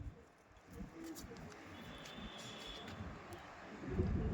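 Pigeons of the Andhra breed, a pair in a loft, give soft low cooing under steady wind noise, faint and continuous through the moment.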